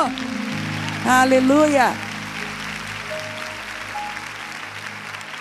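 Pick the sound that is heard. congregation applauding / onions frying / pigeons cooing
congregation applauding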